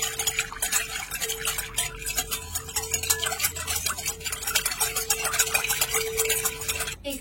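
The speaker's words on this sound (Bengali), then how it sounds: "এবারে একটা হুইস্কের সাহায্যে একটু মিশিয়ে নেব।" Salt, sugar and oil are whisked together in a bowl, a fast steady run of light rhythmic scraping taps close by, moderately quiet and with no voices.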